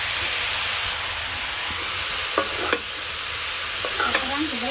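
Vegetables fry in a pan with turmeric and chili powder over low heat, giving a steady close sizzle with a few sharp scraping stirs near the end, and no voices.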